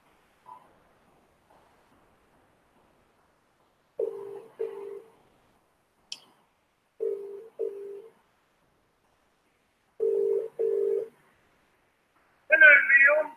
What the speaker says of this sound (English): Let's see if we can get Vanessa on the phone.